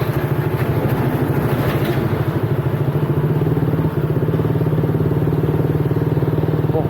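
A Royal Enfield Himalayan motorcycle runs with a loud, close, steady thumping single-cylinder beat that holds even throughout, with no voices over it.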